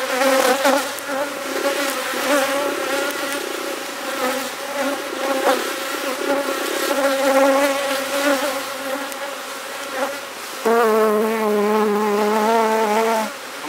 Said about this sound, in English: I want some more nurse bees.